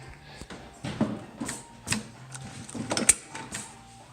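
A Juki LU1510N industrial sewing machine sewing in short bursts, close clattering mechanical thumps and clicks that rise and fall in loudness, with brief pauses between runs.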